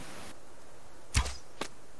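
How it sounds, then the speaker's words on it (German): Two sharp arrow shots from a bow in the survival game Subsistence, the first a loud thwack with a low thump and the second a fainter snap about half a second later, over quiet ambient background. "Ich höre den Pfeil."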